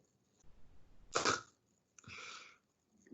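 Two short, harsh coughs a moment apart, fairly close, with quiet room noise around them and no talking.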